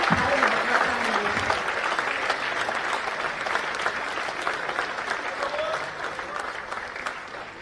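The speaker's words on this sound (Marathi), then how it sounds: "जोरदार टाळ्या व्हायला पाहिजे" Loud, sustained audience applause fills a hall at a Nationalist Congress Party Marathi Language Day celebration, a dense steady clatter of many hands that eases slightly toward the end.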